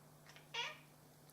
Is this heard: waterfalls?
no